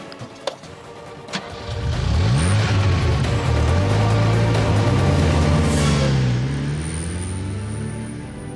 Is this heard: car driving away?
yes